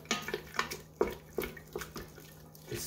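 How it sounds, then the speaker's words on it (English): Water is poured into a pot of mushroom étouffée in short, uneven splashing bursts at close range, several distinct glugs over a few seconds with a faint background hum. "I'm just going to put a little bit more water."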